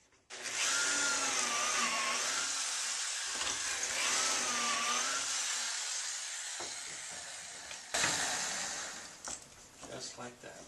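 A power drill whines steadily while driving pocket screws into a cabinet door, running in long sustained bursts with pitch changes as the screw seats, then brief stops and clunks near the end.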